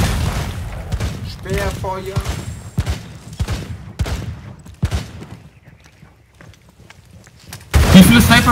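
Gunfire in the shooter game Rainbow Six Siege, with sharp shots in irregular bursts and a loud blast near the end, while players talk over much of it.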